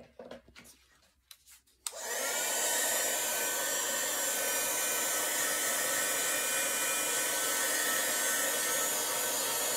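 A hair dryer switches on after a moment of quiet handling and then blows with a loud, steady whoosh, drying watercolour paint on a greeting card.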